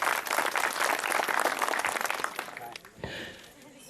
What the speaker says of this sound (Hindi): जो तालियां बजाना पड़ेगा